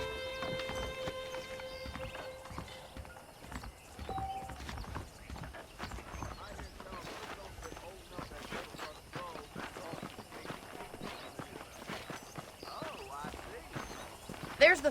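Horses clip-clopping at a run in the Red Dead Redemption video game, steady hoofbeats with an occasional neigh, heard under game music and people talking.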